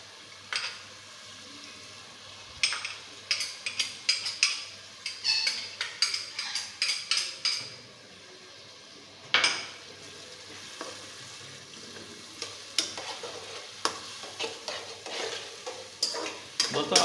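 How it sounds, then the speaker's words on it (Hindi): Tomatoes and yogurt go into a hot cooking pan for tahari and are stirred, with bursts of sizzling and quick scraping stirs against the pan, then quieter pauses and more scraping strokes. "तो ये हम डाल रहे हैं अब टमाटर और दही"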